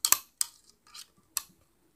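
Shein haul packaging is torn and opened close up in a quiet room: four short, crisp rustling and snapping bursts with brief silences between them, and no one speaking.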